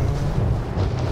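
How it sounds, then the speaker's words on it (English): A frag grenade explodes in the video game Warzone, a deep, rumbling boom that holds steady and loud throughout the short moment. "Frag out. That's me throwing those."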